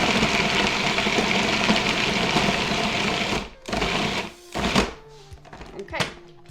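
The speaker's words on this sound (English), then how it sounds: "because it's frozen, it's bouncing the food processor" Food processor chopping frozen suet, a loud, steady motor whir with rattling knocks as the hard pieces bounce, close up, then stopping and starting in shorter bursts as a person talks.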